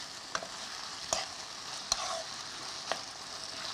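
Chicken frying in oil in a pan, with a steady soft sizzle throughout and a few sharp spoon clinks as it is stirred. No one speaks.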